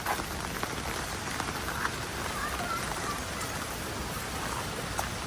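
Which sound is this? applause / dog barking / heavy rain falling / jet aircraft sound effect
heavy rain falling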